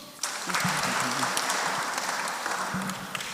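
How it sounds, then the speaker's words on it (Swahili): A congregation at a Kikuyu church service claps together in a dense burst of applause lasting a few seconds, with faint voices mixed in. "Apigiwe makofi."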